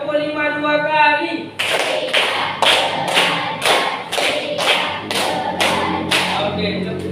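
After a chanted cue, a class claps in unison through two rounds of a five-clap pattern, about ten sharp, evenly spaced claps with voices lingering faintly underneath.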